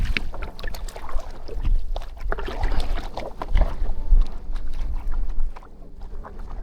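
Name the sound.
kayak paddling down a Corsican river to the sea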